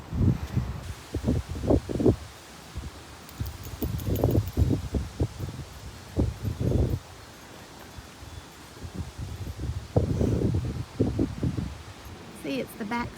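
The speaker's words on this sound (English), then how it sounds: "it's windy" Wind gusts through magnolia leaves in the rain, rustling in repeated bursts that rise and fall, close to the microphone with buffeting wind noise and a person talking over it.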